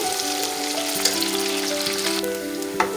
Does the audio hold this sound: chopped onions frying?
yes